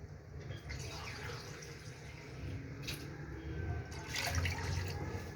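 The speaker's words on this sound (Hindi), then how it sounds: "अब 2 कप हम पानी डालेंगे" Two cups of water pour steadily into a cooking pot, a continuous gushing splash that swells slightly toward the end, with no talking.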